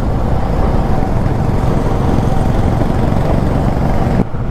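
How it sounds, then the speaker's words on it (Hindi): Several Honda motorcycles on a group interstate ride roar steadily with a dense, continuous engine rumble, close and loud, with no voices and a brief dip near the end. "देखिए रोर कर रही हैं बाइक्स।"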